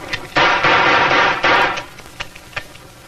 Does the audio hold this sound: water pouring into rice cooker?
no